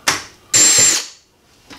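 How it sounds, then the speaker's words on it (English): A power drill bores half-inch holes into a wall near a tankless electric water heater install, with loud whirring bursts that start and stop, one short and one longer, followed by a faint tail. "I'm going to drill my holes real quick."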